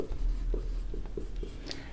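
Handwriting an equation for a Class 10 maths arithmetic progression problem, short close scratchy strokes in a quick series over a low steady room hum, with faint speech in the background.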